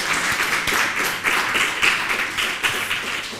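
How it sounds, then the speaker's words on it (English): An audience at a lecture series gives a burst of applause, dense clapping from many hands heard close and fairly loud throughout. "a warm applause please for Danny and"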